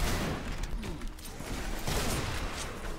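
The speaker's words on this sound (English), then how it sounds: "Minigun. Was it? Oh shoot, that is much faster." Continuous rapid minigun fire in the Doom mod Project Brutality, a dense, steady roar of shots running through the whole stretch at loud, close level with slight surges.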